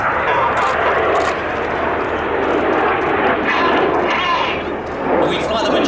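Red Arrows display jets flying in formation at the Duxford Flying Legends airshow, a loud, continuous roar of jet engines that swells and fades slightly as they pass overhead, with faint crowd sounds beneath.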